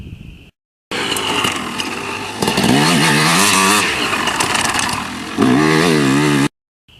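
A dirt bike accelerates through a flat turn, its engine revving up in a loud, rising buzzing whine that surges and climbs in pitch, close by, between brief gaps of silence.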